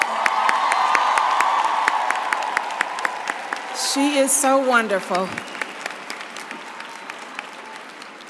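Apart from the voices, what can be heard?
commencement audience applauding Taraji P. Henson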